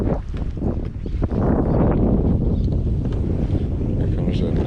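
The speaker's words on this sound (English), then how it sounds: "Here comes that nasty wind." Strong wind gusting over a small Texas lake buffets a kayak and the microphone, a loud, continuous low roar with rumbling surges throughout.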